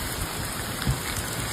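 Heavy rain from a storm in the central U.S. pours down in a dense, steady hiss, loud and continuous, with one brief dull thump partway through.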